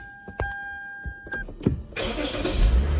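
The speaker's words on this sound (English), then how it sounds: "Put your foot on the brake and start the vehicle." A 2006-2008 Lexus is started up close: a chime and a few clicks, then the starter cranks briefly and the engine catches and settles into a loud, steady idle.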